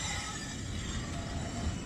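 Steady metallic scraping hum from a Nissan S13 brake pad dragging against the rotor after its cotter pins fell out, continuous and moderately faint with no speech.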